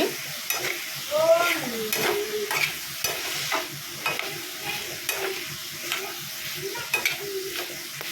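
Pumpkin halwa is stirred in a pan over a soft cooking sizzle, with a steady rhythm of spoon scrapes and taps against the pan.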